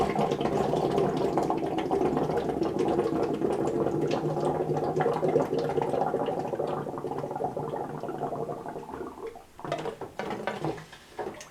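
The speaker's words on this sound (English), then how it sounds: "I'll take a breath, and I'm going to exhale into the hose, which is going to displace the water" Breath exhaled through a hose into a water-filled milk jug in a lab, producing a steady, close bubbling and gurgling that runs for several seconds before breaking into a few irregular splashy bursts near the end.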